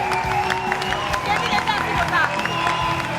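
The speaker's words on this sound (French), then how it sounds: "Est-ce qu'on peut applaudir pour le gagnant, s'il vous plaît?" Audience at a French live show clapping for the winner, a steady spread of applause with crowd murmur and voices talking over it throughout.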